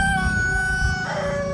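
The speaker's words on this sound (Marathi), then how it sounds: "कोंबड्याने ब्लॉग चालू केला का नुसतं आरडाच भाऊ" A rooster crows nearby in a rural village setting: one loud, drawn-out, tonal call that rises and then breaks into a falling final note, with little else around it.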